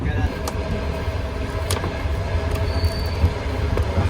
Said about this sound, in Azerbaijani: Qatar biraz yellənir hal-hazırda.